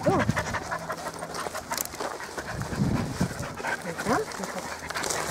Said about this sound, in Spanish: que le vamos a dar chuches a los perritos